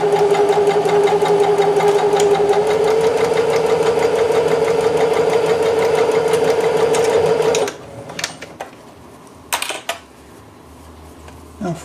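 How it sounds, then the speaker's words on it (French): A sewing machine runs steadily as it stitches the shoulder seam of a dress, whirring continuously for several seconds before stopping abruptly, followed by a few short clicks and handling noises. "Anaïs va nous coudre l'épaule"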